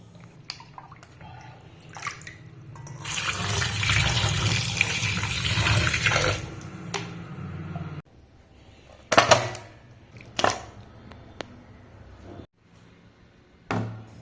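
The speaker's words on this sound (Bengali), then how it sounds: "তাহলে চলো মাংসগুলো প্রথমে পরিষ্কার করে নিই।" Tap water runs into a bowl while raw meat is washed in a home kitchen, a sustained gush that stops abruptly, followed by a few short splashes and bursts of running water.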